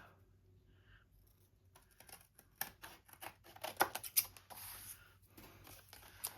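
Scissors snipping through paper while trimming the bottom of a journal pocket or tag, a run of short crisp cuts close by, light and irregular, with faint rustling between snips.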